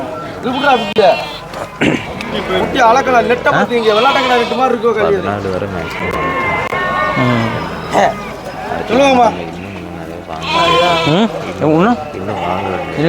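Goats bleat repeatedly at the Ettayapuram livestock market, loud and close, with several overlapping animals calling over a constant background of crowd chatter and people talking.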